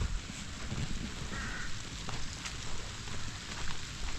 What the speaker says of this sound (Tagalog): Inabot na po tayo ng ulan.